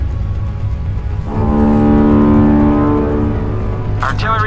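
Engines of the USS Missouri battleship in the game Modern Warships, a low steady droning rumble with a tonal hum rising through the middle, and a voice speaking over it.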